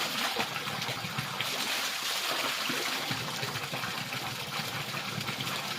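Cold water runs steadily outdoors in a hillside village, a continuous broadband rush and trickle with no pauses, close and moderately loud throughout.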